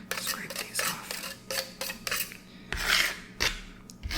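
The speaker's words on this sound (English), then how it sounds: "Now just kind of get the knife and scrape these off." Metal knife scraping food off a surface while cooking chicken and couscous, a series of short rasping strokes in uneven rhythm, close and fairly loud, with a brief clatter of utensils.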